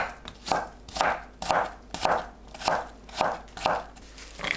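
A knife cuts Chinese yam into 0.5 cm strips on a cutting board, about eight even, crisp chops in a steady rhythm, close and clear.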